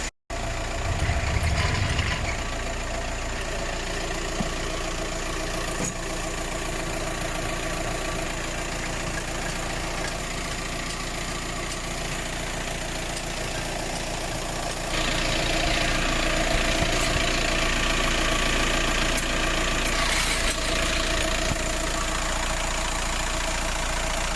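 A car engine idles steadily through an at-home oil change, its low continuous hum and rumble holding even throughout, with a brief louder rise near the start and the hum getting slightly louder and brighter in the final stretch.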